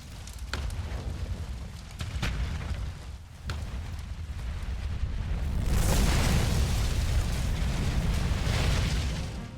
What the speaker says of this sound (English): Whoa, that was a real fucking bomb